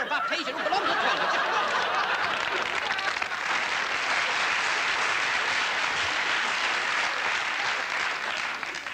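Studio audience applauding steadily throughout at a British TV blooper show, dense and loud, with scattered chuckles and laughter mixed into the clapping.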